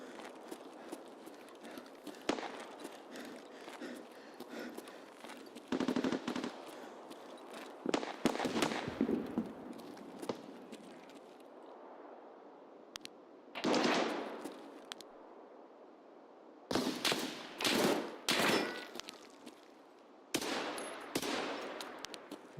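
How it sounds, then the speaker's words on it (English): Suppressed gunfire in the shooter game Escape From Tarkov: scattered clusters of sharp, muffled cracks and short bursts over a steady background hum, with quiet gaps between exchanges. "Suppressed gun."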